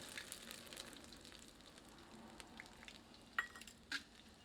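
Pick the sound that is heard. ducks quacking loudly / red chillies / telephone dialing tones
red chillies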